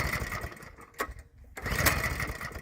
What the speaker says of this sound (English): It's got the Honda cloned 196cc engine in it, and go ahead, Leon